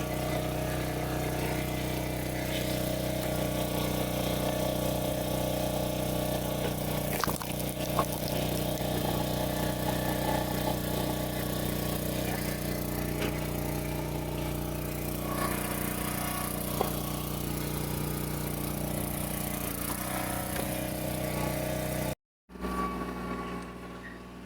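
A tractor fitted with a front-end forklift attachment idles steadily up close, a continuous low rumble with a brief cut near the end before it resumes.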